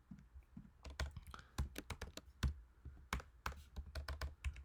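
Keys clack in quick, uneven bursts on a computer keyboard as a code comment is typed in Xcode, close and crisp with short pauses between runs of strokes and no talking.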